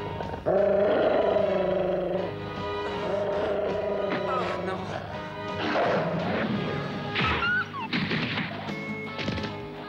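Cartoon dogs attack in a French-dubbed Zorro animated episode: snarling and growling mix with crashing impacts and dramatic music, with voices shouting over the commotion.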